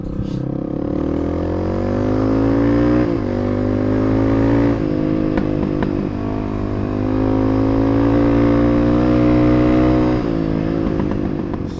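A Suzuki DR350 motorcycle fitted with a 400 big bore kit is being ridden. The engine drones steadily and loudly throughout, with the revs rising and easing back. No one speaks.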